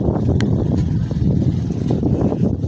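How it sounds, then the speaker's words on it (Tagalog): Strong wind buffets the microphone with a constant low rumble and gusty roar, loud and close, with no voices. "Lakas pa ng hangin"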